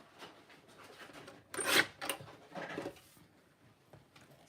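Scrapbook paper having its border trimmed, a few faint close rasping cuts and rubs in short bursts against near silence.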